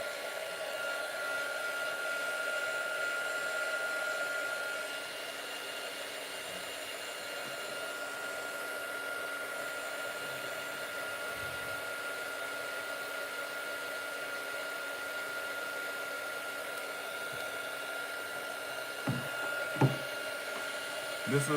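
A small hair dryer blows in a steady whirring drone throughout, used to dry a Chinese painting, with a few faint knocks and bumps toward the end.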